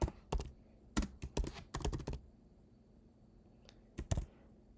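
Clicky keystrokes on a computer keyboard come in quick irregular bursts, several taps close together, then a pause and a final pair, quiet and close with no talking.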